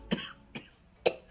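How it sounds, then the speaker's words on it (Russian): Three short coughs from a man in a Breaking Bad scene, each a sharp separate burst spaced unevenly over about a second, fairly close and moderately loud with no talking. "его снова подводит кашель"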